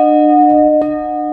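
A church bell from a set of eight at Odenthal in a Roblox game rings with sustained tonal humming, a fresh strike landing near the middle and then ringing on loudly.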